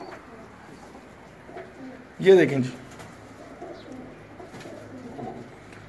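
A pigeon gives a single close coo partway through, standing out over low background noise and a man's brief speech.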